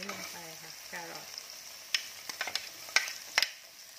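Carrots hit hot sesame oil in a pan and sizzle steadily while a utensil stirs and scrapes, leaving several sharp knocks against the pan; someone speaks briefly at the start.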